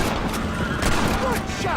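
Gunfire in Red Dead Redemption pops out as several sharp cracks spaced unevenly across a dense background of game noise, close and loud, with a voice faintly mixed in.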